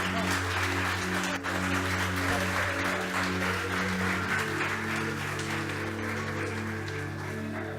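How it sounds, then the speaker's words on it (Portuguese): A church congregation applauds the Lord with sustained, dense clapping that carries over a bed of held organ or keyboard chords, with a voice faintly present in the mix. "Vamos dar mais uma linda salva de palmas ao Senhor"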